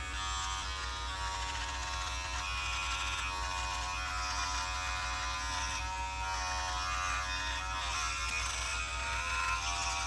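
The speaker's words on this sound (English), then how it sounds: "these clippers are no joke. They definitely work very, very quickly" Ufree electric hair clippers cutting hair, a steady close-up electric buzz that holds without a break, loud and continuous with no talk.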